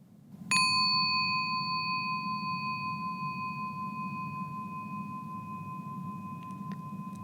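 A meditation bell is struck once and rings out in a clear, sustained tone that slowly fades over several seconds against a quiet background.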